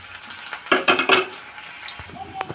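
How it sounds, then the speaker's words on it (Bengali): Chopped onions drop into hot oil in a wok and sizzle in short crackling bursts, briefly loud and then settling into a softer frying hiss with faint clinks. "পেঁয়াজ দিয়ে দিলাম।"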